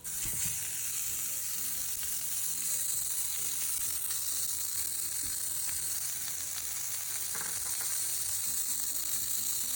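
Ground beef hits a hot pan of caramelized onions and fries with a steady, dense sizzle that holds evenly throughout, with no voices.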